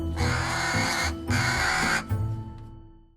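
Two harsh, raspy caws sound from a crow, loud and fairly close, each about a second long. A low steady hum and a soft rumble run underneath throughout.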